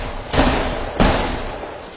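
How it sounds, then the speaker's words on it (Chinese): Two sharp, heavy gunshot-like thuds ring out from above in the horror escape game SOS, about two-thirds of a second apart, each trailing off with a short echo. "上面有枪，听到没有？"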